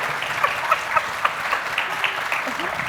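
Audience applause at a book awards festival panel, a steady patter of clapping with a few sharper claps standing out, moderately loud and continuous.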